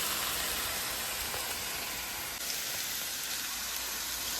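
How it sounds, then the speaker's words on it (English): Onion caramelizing in a frying pan gives a steady, broad sizzle like soft rain, continuous and fairly quiet with no voices. "look how beautifully the onion is caramelizing"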